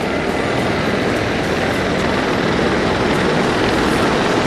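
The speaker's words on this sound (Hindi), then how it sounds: "anti tank guided missiles, rockets, double barrel gun से लैस MI-35 गनशिप हेलीकॉप्टर्स की फॉर्मेशन" A formation of Mi-35 gunship helicopters, armed with anti-tank missiles, rockets and double-barrel guns, flies over a military parade, giving a loud, continuous roar of rotors and engines with no talk.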